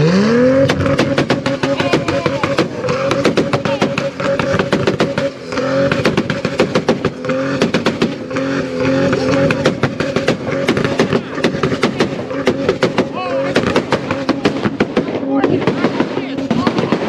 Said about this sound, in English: Need to buy new eardrums after that last two-step from that Supra.